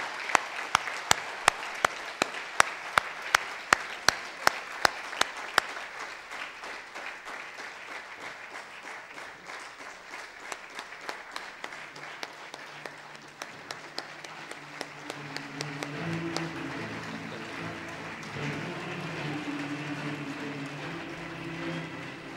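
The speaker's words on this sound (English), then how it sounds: "please welcome Dato Dr. Lim Seo Jin to the stage with a big round of applause" A big round of audience applause welcomes a speaker to the stage, starting with sharp, rhythmic unison claps that loosen into a dense, sustained ovation before fading out.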